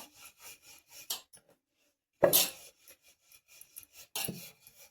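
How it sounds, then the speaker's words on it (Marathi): A rolling pin rolls out champakali dough, a dusted flour pastry, in soft, scattered rubbing strokes with one louder scrape in the middle, close and quiet. "चला तर चंपाकळी लाटून घेऊया."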